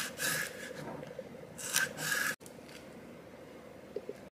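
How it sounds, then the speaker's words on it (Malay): A knife rasps repeatedly through kaffir lime leaves, slicing them into thin strips for a nasi goreng kerabu, producing bursts of close scraping strokes that then continue more softly. "Potong daun limau purut ni memanjang, nipis-nipis tau."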